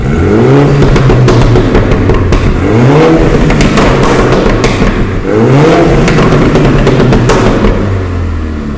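A Mini Cooper S with 192 hp, unchipped and stock, fitted with an open exhaust valve and a muffler delete, revs loudly and close up in repeated rising blips, each climbing and falling back between bursts.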